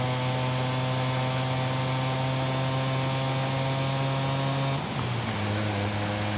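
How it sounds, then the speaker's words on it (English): A small 250cc engine in the racing game Forza Horizon 5 drones at a steady, buzzy pitch, then dips and settles lower near the end as the revs change, heard alone without talk. "Apparently this has a 250cc engine."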